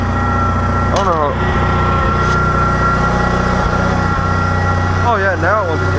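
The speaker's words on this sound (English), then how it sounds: "I was out here with the tractor getting it ready" A tractor engine idles steadily in the early morning while being readied for snow plowing, a constant low rumble with a few brief clanks and squeaks, and someone talks over it.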